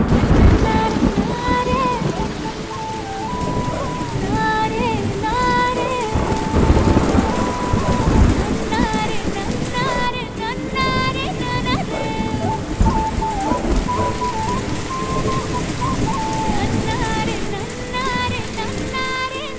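Steady rain with rumbles of thunder fill the scene, a dense hiss holding throughout, while music with tonal notes plays over it and voices speak now and then.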